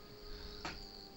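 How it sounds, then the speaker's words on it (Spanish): A single cricket chirps once, a brief bright burst rising above a steady insect hum on a quiet background. "se oye bastante el grillo del que hablábamos antes"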